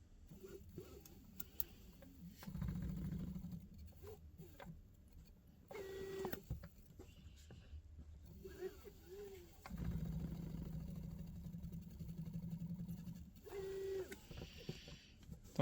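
A Bosch iBooster electric brake booster in a 1972 BMW 2002 EV conversion pulses as the pedal is pressed fully, with humming motor bursts of a few seconds each, repeating at close range amid quieter mechanical background.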